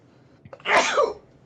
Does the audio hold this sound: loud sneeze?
yes